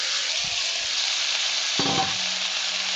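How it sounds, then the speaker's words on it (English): Eggplant and vegetable stir-fry sizzles loudly and steadily in a hot pan, and a splash of marinade goes in midway, briefly intensifying the hiss and crackle with no talking. "So I am not going to add any more, but I am going to add the rest of the marinade."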